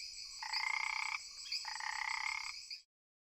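Frogs croak in a Malaysian swamp at dusk, two long buzzing, pulsing calls in quick succession, clear and fairly close, with a faint high insect drone behind them before everything cuts to silence.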